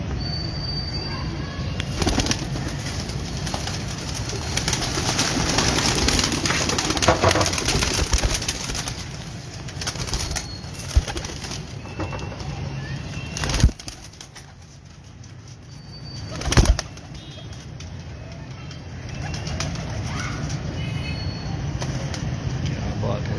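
Breeder pigeons on a rooftop in Golmandi, Lahore, with wings flapping and occasional cooing amid steady outdoor hiss, a few sharp knocks and bursts, and people talking now and then.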